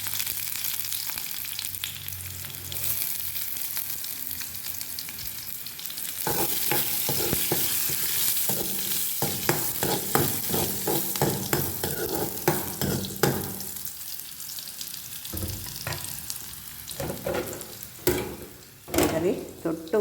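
Fenugreek seeds and curry leaves splutter in hot frying oil while fish curry is cooked, a steady sizzle with crackling pops that grow busier and louder toward the end.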